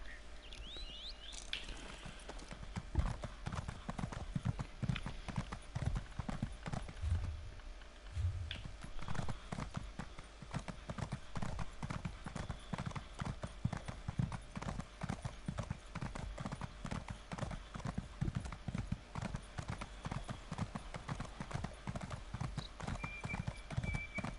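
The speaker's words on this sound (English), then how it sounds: "Still bloody slow, this horse, isn't it?" A horse's hooves gallop in a steady, rapid clip-clop rhythm in the video game Elder Scrolls Online, close and continuous for over twenty seconds, with a short neigh near the start.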